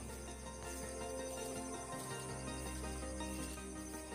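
Crickets chirp in a dense forest at night, a faint, continuous shrill trilling layered with a steady low hum and no voices.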